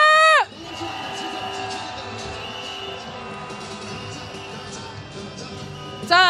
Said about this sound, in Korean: 다시 한번 함성